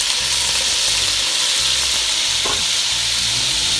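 Drained potatoes fry in about two tablespoons of hot olive oil in a pot, giving a loud, continuous sizzle with a brief stir partway through and no voices.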